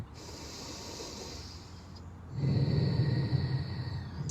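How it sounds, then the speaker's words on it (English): One long, slow yoga breath taken outdoors: a soft, airy inhale, then a fuller, louder rushing exhale close to the microphone. "1 last long breath."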